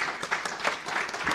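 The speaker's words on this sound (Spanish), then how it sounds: "No sé por qué se apresuraron con los aplausos" A club audience breaks into brief, dense applause, a continuous patter of many hands at moderate loudness with slight swells, heard alone without speech.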